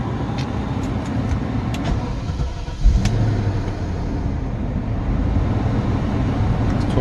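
A BMW engine being repaired with a cheap head gasket fix runs at a steady high idle around 1200 RPM, a continuous close rumbling drone with a brief louder thump near the middle.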